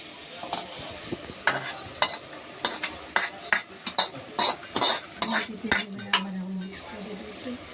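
Boiled pigeon peas (tuvar) go into a pan for a Gujarati village-style totha curry and get stirred, a string of sharp metallic scrapes and clatters with soft sizzling between them, close and irregular.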